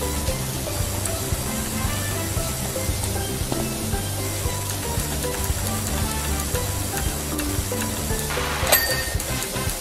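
A pressure washer sprays steadily on a slim off-road dirt bike in the PowerWash Simulator video game, a continuous hiss running under game music with a brief burst of brighter spray near the end.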